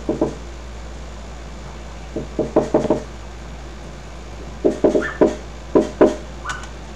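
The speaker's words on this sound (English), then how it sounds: "The man knocked on the door repeatedly and were captured on the homeowner's Ring doorbell camera." A man knocks repeatedly on a home's front door, picked up by a Ring doorbell camera: sharp knuckle raps come in several quick bursts of three to five separated by pauses, over a low steady electrical hum.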